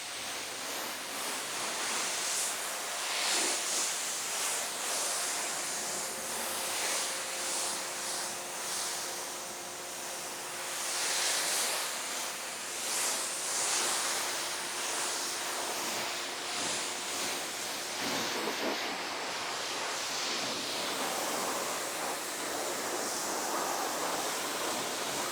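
Black car rinsed with a pressure washer or garden hose in summer sun: a steady, loud hiss of spraying water with shifting splashes and faint tonal hums, continuous throughout.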